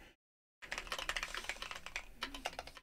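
Fast typing on a computer keyboard rattles close by: a dense run of clicking keystrokes that starts abruptly after a brief silence and keeps going to the end.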